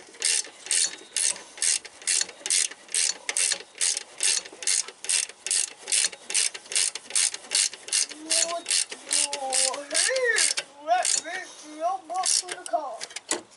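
A ratchet snugs down cylinder head bolts on a Subaru 2.5 engine during a head gasket job, clicking in rapid even bursts close up, with a voice talking over the last few seconds.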